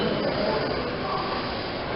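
A Lego model train runs around a display layout at a Lego fan event in Green Bay, Wisconsin, giving a steady, faint rolling whir against a busy hall background.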